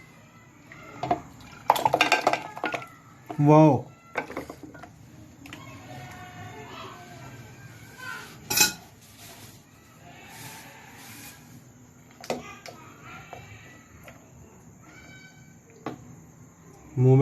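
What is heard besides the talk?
food being put into a pot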